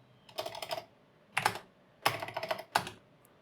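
Bursts of quick keystrokes on a computer keyboard, four short clusters of close, clicky typing separated by brief silences, while writing Go code.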